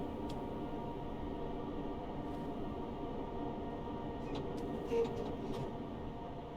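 Steady rumbling run of a simulated train on the Cathcart line near Langside, continuous and even with brief faint clicks and squeals, moderately loud throughout.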